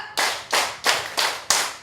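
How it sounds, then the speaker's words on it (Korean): An audience at a singing class claps in unison five times, sharp synchronized claps spaced evenly about a third of a second apart, loud and close with brief decays between. "박수 다섯 번 시작"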